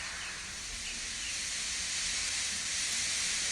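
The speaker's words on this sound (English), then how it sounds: "But Henry only blew steam at him." A steam locomotive releases a steady, broad hiss of steam on a railway, sustained and fairly loud for the whole stretch with no voices.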